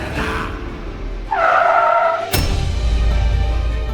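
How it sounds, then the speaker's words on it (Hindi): A car brakes hard to a sudden stop, its tires letting out a loud, close squealing skid that ends in an abrupt thump, followed by a steady engine rumble. "गाड़ी क्यों रोक दी?"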